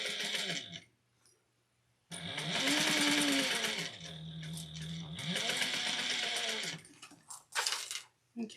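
A sewing machine runs in close bursts, back stitching with rising and falling motor whine, pausing between passes, with someone talking over parts of it.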